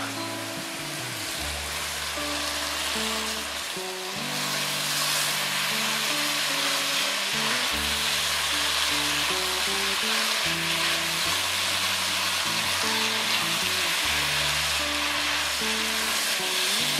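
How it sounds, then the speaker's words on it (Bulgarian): Chopped tomatoes frying in a pan for eggplant moussaka, a steady close sizzle running throughout beneath soft background music, no talking. "Оставяме за около 3 минути да се запържат доматките"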